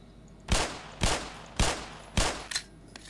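Four spaced gunshots from the video game Black Mesa, each a sharp loud crack with a short tail, followed by a couple of quicker smaller pops, with no talk.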